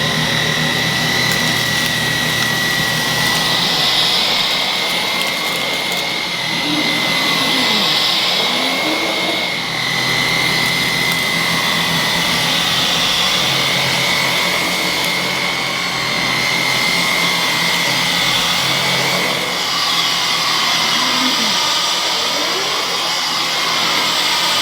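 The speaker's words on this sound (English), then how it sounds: "I'm going to try the Dyson on its medium setting for this." A Dyson Digital Slim cordless vacuum runs on its medium setting over a rug, a loud steady whine with a constant high tone and rushing air, swelling slightly as it passes back and forth, with no voices.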